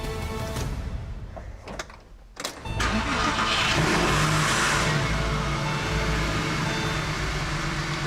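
A Porsche 911 being built up as a safari car cranks over with a few short bursts, then catches and settles into a steady, loud running idle up close.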